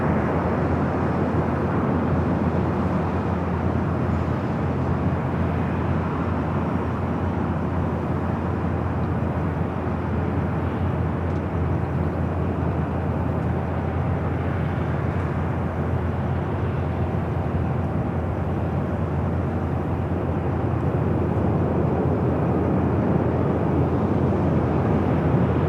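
The "Doomsday Plane" departs LAX, a loud, unbroken jet roar that holds steady throughout and swells slightly near the end, heard from a distance with no voices over it.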